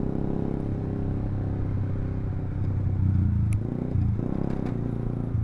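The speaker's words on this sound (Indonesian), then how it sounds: "Jadi knalpotnya ini kenceng banget," A motorcycle fitted with a loud Proliner T1R short exhaust rumbles nearby at idle with a deep, steady burble and slight swells, with no speech.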